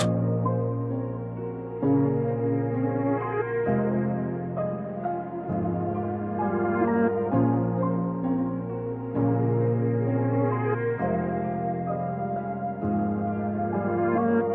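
A moody, minor-key dark piano melody sample plays alone, steady and sustained, with chord changes arriving every couple of seconds.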